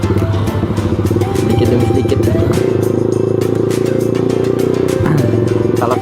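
A motorcycle rides on a road at night, its engine droning loudly and steadily with a small shift in pitch midway, while a person speaks briefly over the riding noise.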